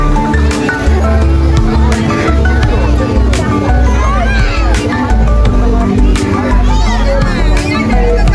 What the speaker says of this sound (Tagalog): Easter egg hunt ng mga bata